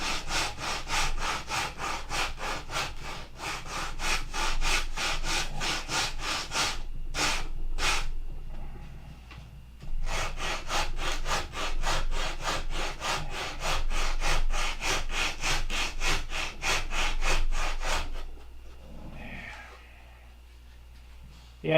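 Hand sanding on a Gen 4 horn, with rapid rhythmic back-and-forth strokes of abrasive on wood, close and loud in long steady runs, a short pause and a couple of isolated strokes midway, then a breath and brief rustle at the end.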